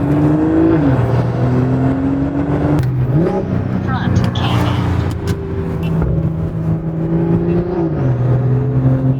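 Big-turbo, tuned BMW M340i with a B58 engine: a loud, sustained engine drone that swells and drops in pitch through several revs and shifts, close and continuous.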